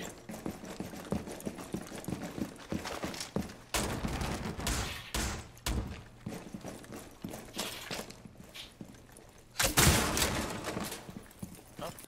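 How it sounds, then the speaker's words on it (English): The operator Zofia in Rainbow Six Siege firing impact grenades, which blow apart barricades and shields: a run of sharp, loud shots and bursts with clattering debris, the strongest blast near the end. "she does fire impact grenades, so she can destroy both castles and shields easily"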